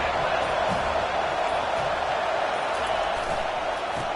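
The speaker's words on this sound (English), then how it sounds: "Here comes the crowd trying to make it tough on 3rd and long." Football stadium crowd roaring on a 3rd and long play, a dense, loud, continuous wash of noise with a commentator talking over it.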